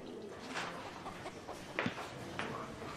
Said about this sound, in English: There's a chicken in the kitchen.